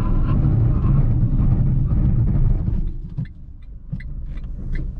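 A Ford Ka 1.0 three-cylinder car brakes hard from 100 km/h, its loud road rumble and engine noise fading quickly to a low idle, followed by faint intermittent beeps from its emergency brake warning with hazard lights.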